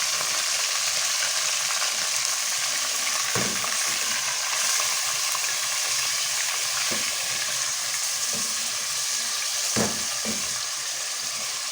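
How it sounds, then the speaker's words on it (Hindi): Pieces of beef sear over high heat with whole spices such as cardamom, cinnamon and black pepper, producing a loud, constant sizzle broken by occasional scrapes of stirring, with no voices. "थोड़ा भूनेंगे गोश्त को तेज़ आंच पे"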